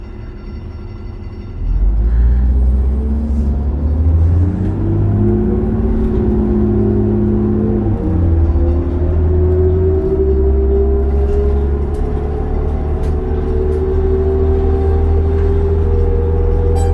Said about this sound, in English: This bus is one of the really old ones.